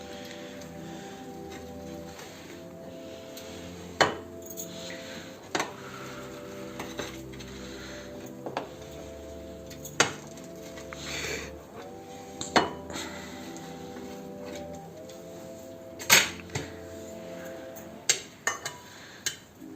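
An omelette is cut with metal cutlery on a plate, giving sharp clinks and scrapes at irregular intervals over soft background music, with no talking.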